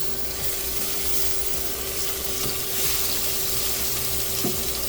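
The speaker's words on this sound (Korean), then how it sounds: "채 썰어 놓은 양파 2개를 기름에 달달 볶아줍니다" Sliced onions and minced garlic stir-frying in oil in a pan, giving a steady close sizzle with a faint constant hum and occasional soft knocks of stirring.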